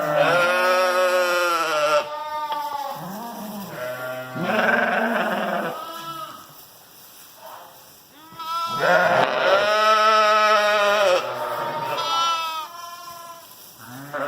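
Ewes and newborn lambs bleat loudly and repeatedly in a pen, with overlapping calls that rise and fall and come close to one another, and only short lulls between them.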